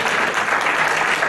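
Members of a church congregation clap together for their pastor, a brief, steady wash of many hands at close, even loudness.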